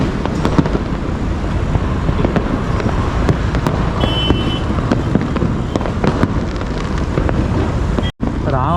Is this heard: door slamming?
no